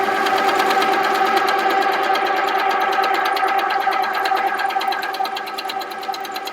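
A Handi Quilter Sweet Sixteen sewing machine stitches at 30% speed, a steady, close mechanical whir with a fast, even stitching chatter that eases slightly toward the end.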